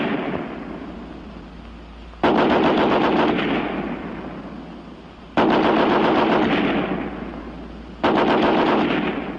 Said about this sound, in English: First, the American Light 30 on the bipod.